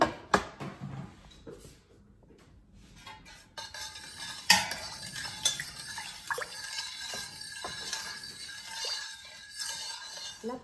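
Scented candle wax with strawberry-champagne fragrance being stirred in a pot, giving soft scraping and clinking of a utensil against metal, irregular and close, with faint drips, no voices.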